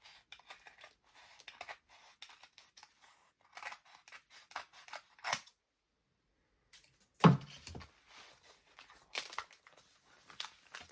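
Scissors snipping paper for a junk journal craft, a series of short close cuts and crinkles with pauses, one sharper crunch midway, fairly quiet and without talk.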